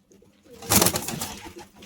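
Pigeons in a loft give soft, low coos with a burst of fluttering or rustling in the middle, close by and moderately loud, with no talk.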